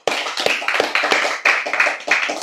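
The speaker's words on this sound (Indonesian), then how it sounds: "Tepuk tangan." An audience at an Islamic religious lecture claps in a short run of sharp, fairly regular hand claps, close and distinct, about a dozen strikes over a couple of seconds with no speech.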